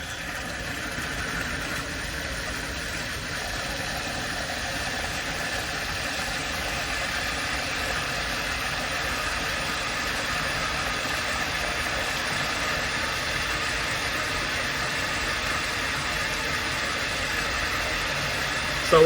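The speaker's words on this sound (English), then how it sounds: "we hit the green button and the pump will start up" A Nastec 4HS MultiPower solar pump starting and ramping up in MPPT mode, with a steady, loud mechanical motor drone and vibration that holds at an even level throughout, without talk.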